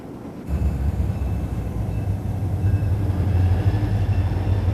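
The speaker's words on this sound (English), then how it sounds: "number 8395, a GP11, and number 3121, another GP40A, pull a long freight heading out of town." A long freight train hauled by GP40A and GP11 diesel locomotives rolls out of town, a steady loud low rumble and rail roar that rises slightly and holds throughout, with no talking.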